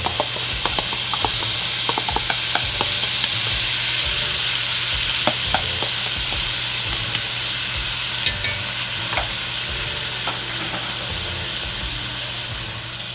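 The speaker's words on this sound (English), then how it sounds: "And now we're gonna bring in our onions. And we're gonna season them up in this little gravy right here." Onions sizzling in the gravy of a pork roast pot, a loud steady frying hiss that runs throughout, with scattered small pops and stirring scrapes close up, and no talking.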